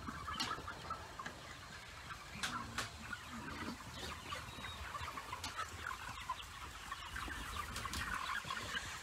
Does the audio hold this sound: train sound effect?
no